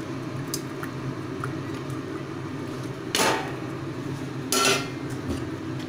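Fried potato and pointed gourd pieces drop into cooked-down masala in a pan with two soft, wet squishing thuds over a low kitchen background.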